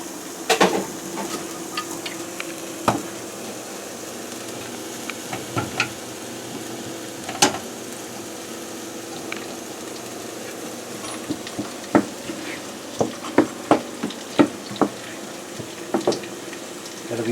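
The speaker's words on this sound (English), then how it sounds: "So we're going to put in some onions. I'll get those sauteed." Onions sauté in melted butter in a saucepan, a soft steady sizzle broken by scattered clinks and taps of a utensil against the pan, close by with no talking.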